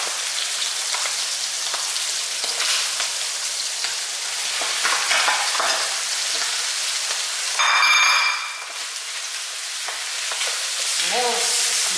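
White rice frying in a pan for squid fried rice, giving a steady, bright sizzle with stirring scrapes and a brief clatter near the end.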